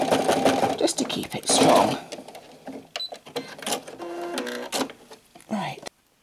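A sewing machine stitches backward and forward through binding and interfacing for a martingale collar, giving short, close mechanical runs that stop and start between a few spoken words.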